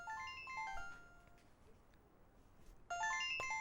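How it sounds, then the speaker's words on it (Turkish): A telephone plays a melodic electronic ringtone in a home in a Turkish drama, two bursts of tones separated by a quiet gap, fairly faint against soft background noise. "bir kapı bir telefon zır zır"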